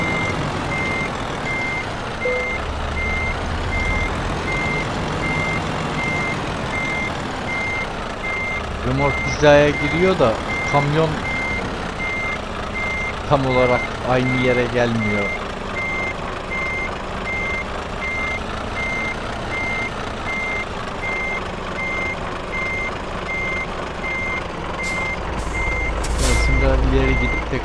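A DAF XF 105 truck with a tandem trailer reverses in Euro Truck Simulator 2, its backup alarm beeping steadily throughout under engine hum while someone talks over it.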